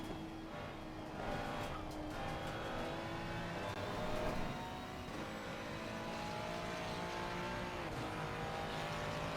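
Ferrari 296 race car lapping Watkins Glen in the ACC racing game, engine note rising and falling through gear changes with brief tire squeal, steady and fairly loud throughout with no talk.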